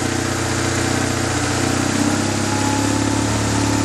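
A BMW R motorcycle engine held just above idle, a loud, even, close drone with a steady pulsing rumble and slight rise midway, alone without voices.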